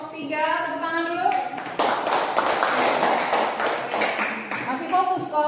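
Classroom students applaud group 3 with a burst of dense hand clapping that lasts a few seconds, bracketed by a teacher's voice and children talking before and after.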